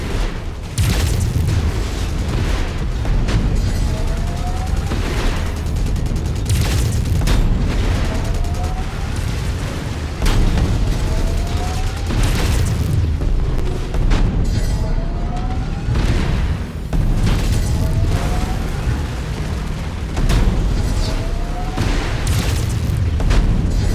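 Repeated heavy booms and explosions from destroyed targets in the MechWarrior 5: Mercenaries mech combat game, loud and continuous over a dense battle din, with bursts of weapon fire recurring every few seconds.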